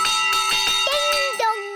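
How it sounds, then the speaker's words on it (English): Cartoon fire engine bell ringing in a series of bright clanging strikes with long ringing overtones, then a couple of sliding tonal notes, loud and close. "a big bell to ring"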